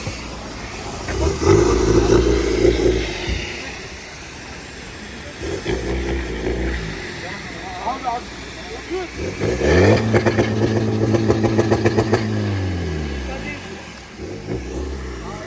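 A Polo's custom-made exhaust revs hard in repeated bursts with a throaty, rumbling sound, close by, while people talk over it.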